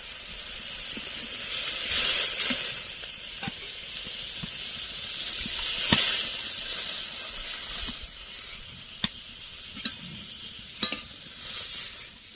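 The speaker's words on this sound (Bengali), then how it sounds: "এখন জল দিয়ে দেবো জল" Water poured into hot oil and spices for a Bengali rohu fish curry sets off a loud continuous hiss and sizzle, with sharper bursts and a few clicks of utensils near the end.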